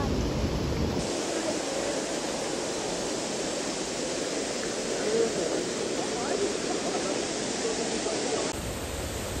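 Steady roar of a waterfall in Bonito, Mato Grosso do Sul, Brazil, a constant rushing wash of water filling the scene from start to end.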